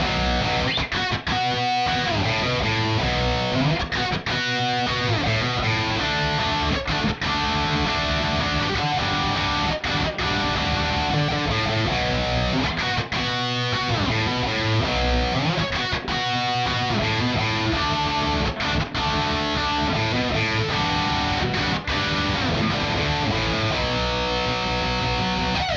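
A second distorted electric guitar works through varied chord voicings over the chorus progression, a full, steady wall of sound with rhythmic accents and regular chord changes.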